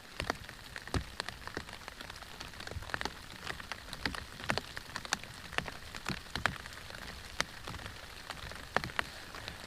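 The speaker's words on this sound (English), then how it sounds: "Just like this rain when there's blue skies right over there." Rain falling on a surface as a steady, faint patter, with scattered sharper drops ticking irregularly throughout.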